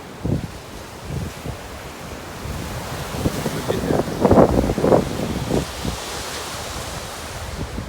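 Wind buffets the microphone while ocean waves wash and rumble on a beach in The Gambia; a person briefly speaks over the gusty surf.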